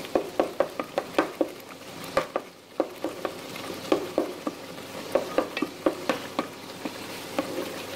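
Tomatoes cooking down in a pan for tomato salan, a steady sizzle broken by frequent sharp spatula scrapes and taps against the metal, close and fairly quiet, with no talking.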